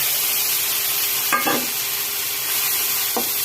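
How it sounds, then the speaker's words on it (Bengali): A spice mix of salt, turmeric, garlic, ginger, cumin and garam masala fries in oil with reddened onions for chicken curry, a steady sizzle with a few scraping stirs of a spatula. "মশলাগুলো আমি ভুনাই নিচ্ছি"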